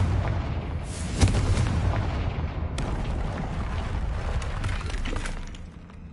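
The Confringo explosion spell blasts through a barrier in Hogwarts Legacy, a sharp booming impact followed by crumbling, shattering debris and a second crash, trailing off into rumble.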